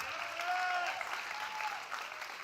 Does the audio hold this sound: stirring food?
no